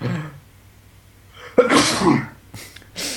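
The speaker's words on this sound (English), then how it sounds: "And there is the sneeze for this review." A single sharp sneeze bursts out close by after a quiet stretch, followed by a couple of short breathy sounds.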